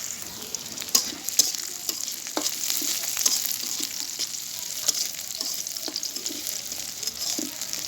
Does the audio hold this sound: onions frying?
yes